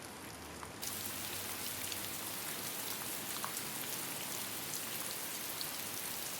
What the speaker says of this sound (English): So let's drag more rain sounds into the project.